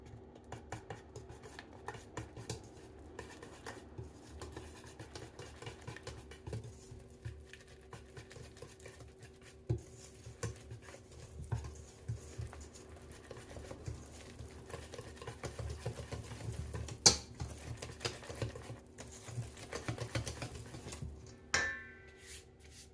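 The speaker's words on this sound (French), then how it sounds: "Puis mélangez délicatement pour incorporer la farine." Sifted flour is gently folded into a yogurt cake batter, giving soft, quiet scraping and tapping of a utensil against a bowl in an irregular rhythm, close and faint with no talking.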